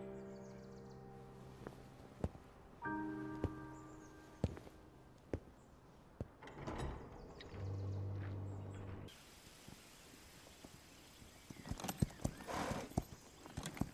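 Horse hooves clip-clopping at a walk in a Zelda film scene, sharp scattered knocks alongside ratcheting mechanical clicks and tones, quiet overall.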